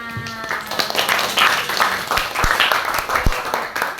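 Grade 12 math class clapping on cue: a short burst of a few classmates' claps, fairly close, with voices mixed in.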